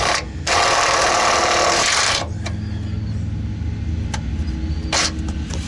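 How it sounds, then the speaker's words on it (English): A drill runs loud and close for under two seconds as it bores through the thin factory reinforcement bracket of a 1988 Ford E150 Clubwagon van, then stops, leaving a low steady hum with a few sharp clicks and one short later burst. "So now with that drilled"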